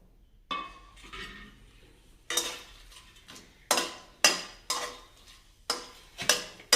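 Whole spices dropped into hot ghee for vegetable pulao, sputtering and crackling in a series of sharp sizzling bursts that fade between them, close to the pan.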